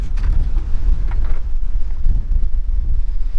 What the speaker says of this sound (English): it is really blowing out here